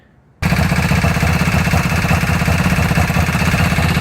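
A KTM motorcycle with a bodged, homemade exhaust starts up and runs close by on a cold day, a loud, steady, rough idle with a rapid throbbing beat that holds throughout.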